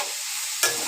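Fish sizzles steadily in hot oil with garlic, a brief louder burst of spattering coming near the end.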